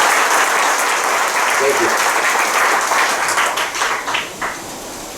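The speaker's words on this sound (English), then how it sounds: "Let's give him a round of applause, please." Sustained, loud crowd applause at a political rally for a U.S. Senate candidate, a dense wash of clapping that tapers off near the end while a voice speaks briefly over it.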